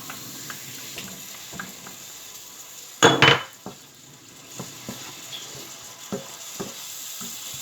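Spices sizzling in a pan with tamarind for Goan curry, a low steady fry under repeated light utensil taps, with one loud metallic clatter of a spoon against the pan partway through.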